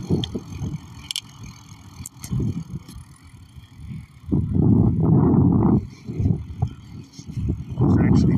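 An electric mountain bike rides through a neighborhood with a rolling tire hum and wind rush that rises and falls, while someone talks over it.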